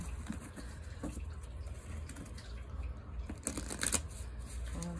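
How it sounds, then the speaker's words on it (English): Close, soft rustling and flicking of oracle cards being shuffled by hand, continuous with brief louder riffles. "Shuffling sounds because my frame is long."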